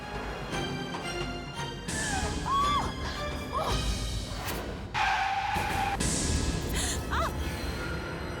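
Car crash with skidding: a continuous engine roar broken by sharp tire squeals, a loud impact burst midway and a high screech near the end.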